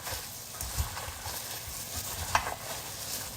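Wet, squelchy stirring of meatloaf mixture with about two tablespoons of Heinz ketchup, a soft continuous mushing with a couple of sharper slaps, close and fairly quiet, with no talking.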